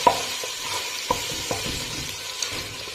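Browned minced meat frying with garlic in a hot pan, a continuous close sizzle with a few soft clicks of stirring, no voices.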